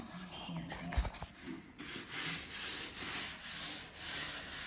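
A small scrubber soaked in denatured alcohol is rubbed back and forth over old wood during a house restoration, making regular, close, rasping strokes that settle into an even rhythm after a few scattered bumps.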